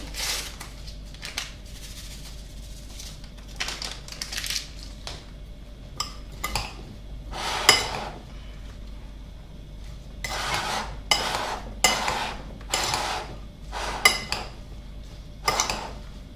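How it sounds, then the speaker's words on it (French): Sliced apples and pears are stirred together in a salad bowl, giving scattered clinks, scrapes and clatters of a utensil against the bowl, fairly quiet and close, with pauses between bursts. "je vais mélanger mes deux fruits dans mon saladier"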